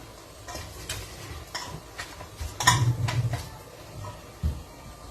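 Bhakri flatbread roasting in a pan over a medium gas flame gives a soft, low sizzle, with a few light scraping and tapping sounds as it is turned and pressed, then a brief clatter near the end.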